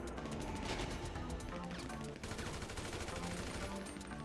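Continuous crackle of gunfire in the open-world game GTA V, fairly quiet and steady for four seconds, blended into a dense wash of game noise with no clear pauses.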